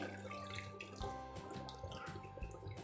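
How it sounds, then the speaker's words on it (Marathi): A glass of water pours steadily into a cooking pot of sprouted moth bean curry with a close, bubbling splash, the pitch of the stream shifting as it fills, no voices. "इथे मी अजून एक ग्लास हे पाणी घालते"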